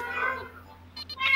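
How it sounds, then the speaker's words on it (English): A cat meows up close, a drawn-out yowl followed by a few shorter cries, heard over a low steady background hum. "sorry for the cat."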